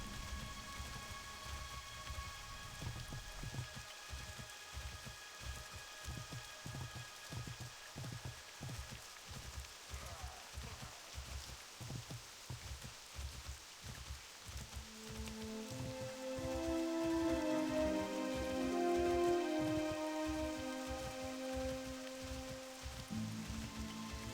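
Steady rain hisses throughout a World of Warcraft Classic scene, a soft continuous wash with faint regular ticking, joined midway by a low swelling ambient tone.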